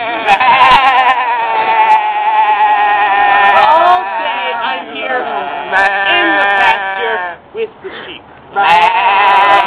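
Sheep bleat loudly and up close, several wavering, overlapping cries running almost continuously with brief gaps near the end, alongside talking.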